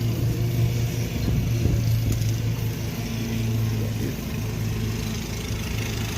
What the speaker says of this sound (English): sorry about the lawnmower noise in the back